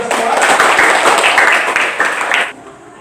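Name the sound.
students applauding in a classroom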